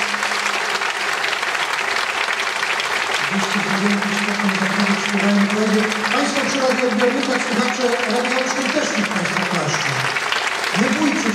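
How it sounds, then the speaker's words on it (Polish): Stormy, sustained applause from an audience at a castle concert event, rewarding contest participants; dense continuous clapping throughout, with voices or singing tones rising over it partway through. "teraz burzliwymi oklaskami nagrodzą wszystkich uczestników konkursu"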